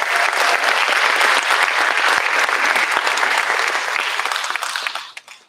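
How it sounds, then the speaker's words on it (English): A crowd at a theater awards ceremony claps enthusiastically in a dense, steady burst of applause that gradually fades out over several seconds. "Give them a round of applause"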